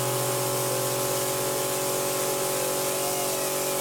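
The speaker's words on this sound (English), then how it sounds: "Hope you can still hear me over the compressor." Air compressor running steadily in a workshop, a loud continuous hum with strong low tonal drone and broad hiss, filling the whole stretch without pause and with no talk over it.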